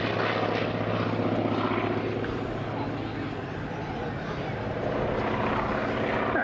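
A propeller-driven warbird roars past in a display pass at Dunsfold, a steady loud engine drone that swells slightly and holds, with a commentator's voice running underneath.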